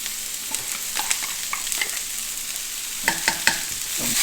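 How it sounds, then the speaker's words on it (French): Onions and garlic fry in sesame oil in a wok, a soft, quiet sizzle broken by several light stirring scrapes and taps toward the end, with no one speaking. "Je fais revenir les oignons et l'ail."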